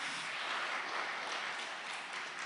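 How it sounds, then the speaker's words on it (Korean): A church congregation claps together during a Sunday thanksgiving worship service, a dense, steady wash of many hands that stays even and fairly loud throughout with no voices on top. "박수로 기념하겠습니다."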